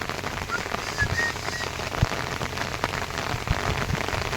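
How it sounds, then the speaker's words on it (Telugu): Heavy rain pours down steadily in a loud, dense, continuous wash with scattered sharper drops, falling outdoors where goats are being soaked. "అంత ఫీడ్ పడుతుంది వాన"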